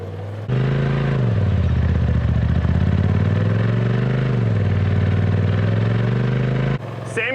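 A Polaris side-by-side crawls over rocks, its engine droning loud and close with slow swells in pitch as the throttle eases on and off, then dropping away near the end as a voice begins.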